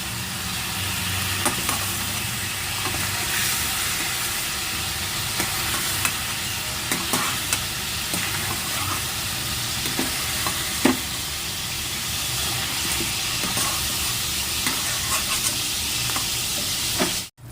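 Chicken fries in a kadai with a steady close sizzle, broken by scattered scrapes and clinks of a spoon stirring the pieces, continuous for over fifteen seconds with no voices.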